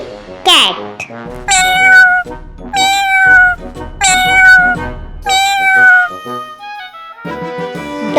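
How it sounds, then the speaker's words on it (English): Cartoon cat meowing in a children's farm-animal lesson, several loud, drawn-out meows in a steady sequence, mostly alone. "C-A-T. Cat."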